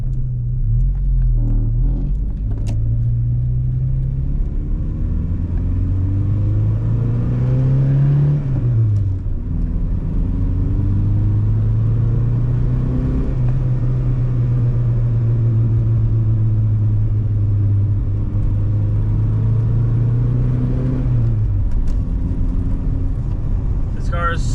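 VW Jetta wagon engine while driving, a steady low rumble that rises and falls as it revs through gears, close and continuous, with a voice talking over it at times.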